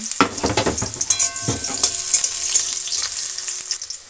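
Diced potatoes fry in hot oil with five-spice seeds in a wok, a steady close sizzle punctuated by scraping stirs and clinks of the spatula against the metal.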